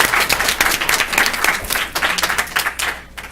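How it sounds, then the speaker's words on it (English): Audience members at a school district board meeting give a round of applause, a lively burst of individual claps in uneven rhythm, close and loud, tapering off near the end. "give yourselves a big round of applause for that one"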